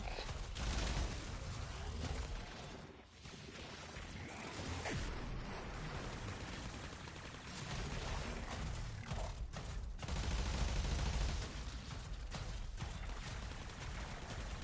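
Dense, continuous gunfire from a Warframe firefight, a steady rattle of shots with brief dips and swells throughout, close and loud with no voices over it.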